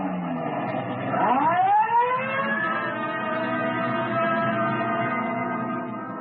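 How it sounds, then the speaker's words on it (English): A police car siren wails steadily with a rising sweep near the start, then holds a loud wavering tone, close and continuous with no voices. "Code 3, red light and siren"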